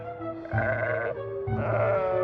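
Sheep bleating close by on a farm, two long wavering calls in a row with a short pause between them, heard alone with no talk.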